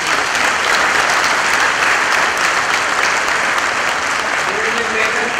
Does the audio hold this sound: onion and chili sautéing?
no